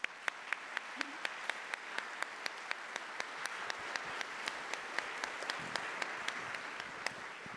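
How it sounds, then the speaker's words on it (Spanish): A university lecture audience applauds, with steady crowd clapping running throughout and one nearby person's sharp, regular claps standing out above the rest. "Un aplauso para usted."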